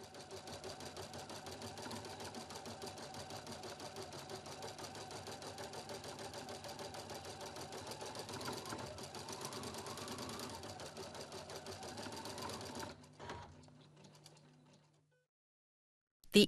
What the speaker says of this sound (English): Embroider again.